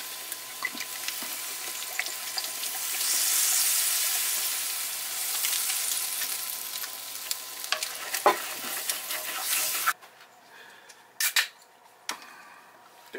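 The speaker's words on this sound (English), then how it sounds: "You want to deglaze the pan. This is rice vinegar." A hot pan sizzles loudly as rice vinegar is poured in to deglaze it, the hiss swelling and then fading, followed by a few clinks and quieter scraping near the end.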